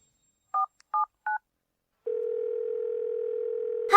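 Three short touch-tone dialing beeps on a telephone, then a steady, moderately loud dial tone that hums on alone for about two seconds before a brief click at the end.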